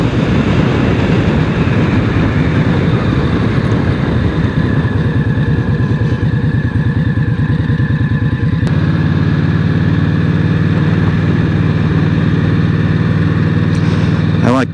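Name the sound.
2023 Indian Scout ABS motorcycle engine with stock exhaust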